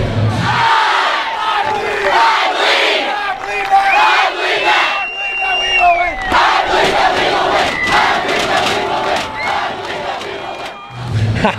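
A high school football student section cheers and yells together in loud, sustained chanting bursts, a dense crowd roar with whistles and shouts rising and falling close by.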